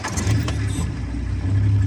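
A safari car's engine running in South Luangwa National Park, Zambia, a steady low rumble close by with a smooth, even drone throughout and no voices.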